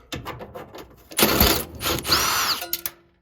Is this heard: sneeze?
no